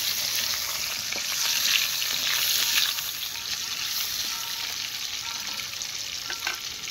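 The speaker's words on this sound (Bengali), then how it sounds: "আলুগুলো দিয়ে দেওয়া হয়েছে এখানে, আলুগুলো ভাজছে।" Potatoes fry in a pan on a clay stove, a steady close sizzle with bright crackling spatters and occasional stirring, no voices.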